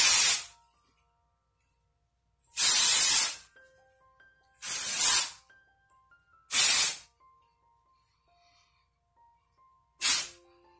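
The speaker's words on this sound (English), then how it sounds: "You just hold it like 7 to 10 inches away from your hair and spray it." Five bursts of aerosol dry shampoo spraying, each hiss lasting under a second, separated by pauses of a second or more, loud and close with no talking.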